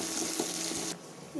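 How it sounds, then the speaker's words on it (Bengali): Chili and onion fry in a pan that also holds fish, giving a close, steady sizzle that cuts off abruptly near the end, leaving a quieter hiss. "মরিচ আর পেঁয়াজ ভাজতে হবে।"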